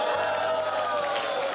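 Classroom students clapping and jeering in a continuous, dense crowd roar of voices and claps with no single voice standing out.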